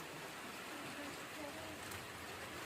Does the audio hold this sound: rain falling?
yes